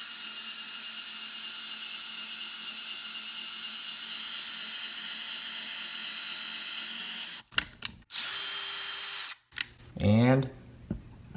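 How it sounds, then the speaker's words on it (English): A power drill whines steadily for several seconds drilling a hole in wood for a drawer pull, then cuts out and restarts in short bursts, with a final rising rev near the end. "once you start drilling your hole"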